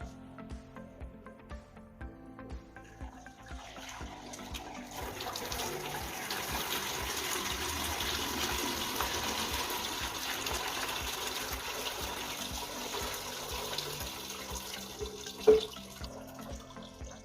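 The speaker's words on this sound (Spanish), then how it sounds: "los dos recipientes restantes servirán para captar el agua que se filtrará en los tubos" Water pours steadily through a copper tube heat exchanger into a collecting container, a continuous gushing flow that builds and holds, with a brief knock near the end and no voices.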